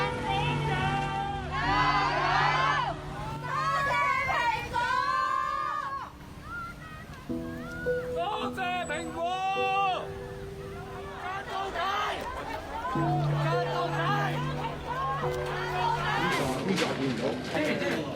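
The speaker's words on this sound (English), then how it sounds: "The cheering seemed endless" A crowd gathered in the evening outside the Apple Daily newspaper building in Hong Kong cheers and shouts without letup, a dense wash of voices and chatter that stays loud for the whole stretch.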